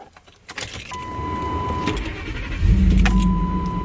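A truck engine cranks and catches using a Hulkman Alpha 85S jump starter, a brief click and whine before a loud engine rumble swells up close and keeps running steadily.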